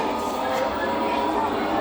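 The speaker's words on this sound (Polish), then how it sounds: "Jedzie, rusza pociąg." Model train on a miniature Warsaw railway layout pulling away, a steady soft rolling whir and hum of small wheels and motor running continuously through the clip, with a busy indoor background.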